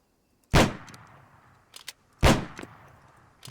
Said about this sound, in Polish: Z tej strony jeszcze słyszę strzały jakieś